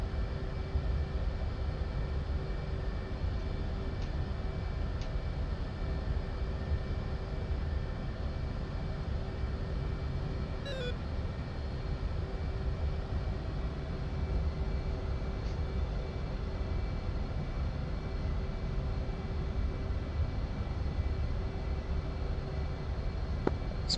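A military jet taxiing onto the runway in a flight video game gives a steady low engine rumble and hum, with a faint brief chirp midway and no talking.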